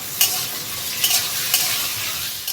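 Tomato going into fried onions and green chillies in hot oil, a loud, steady close sizzle with a few sharper bursts as the pan is stirred, no voices.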